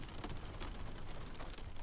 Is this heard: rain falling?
yes